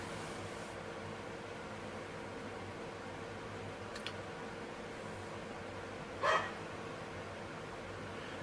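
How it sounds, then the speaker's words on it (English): A dog barks once in a short, sharp burst at a middle distance, with a fainter yelp a couple of seconds earlier, both over a steady background hiss. "I'm sorry about the dog sticking barking"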